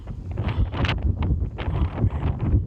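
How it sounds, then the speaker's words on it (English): Wind buffets a microphone on a cold mountain trail at night, producing irregular, rumbling gusts that are loud and close and continuous over a few seconds, with no talk. "man, it is windy and cold up here."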